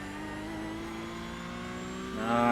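A Porsche Cup race car engine in the iRacing sim holds a steady buzzing pitch, then surges louder and higher as it accelerates out of a corner in third gear. The engine plays alone, with no talk.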